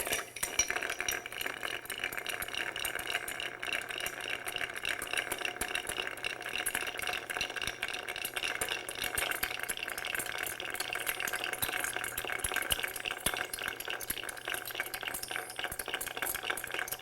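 A cocktail is stirred over ice in a mixing glass, making a continuous light clinking, rattling swirl that stays steady and close for the whole stretch, with no voices.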